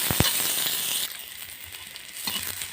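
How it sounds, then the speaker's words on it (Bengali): Chopped onion frying in hot oil for a Bengali curry, a steady close sizzling hiss with a couple of brief clatters at the start and another stir near the end. "পেঁয়াজটা ভালো করে ভেজে নেব।"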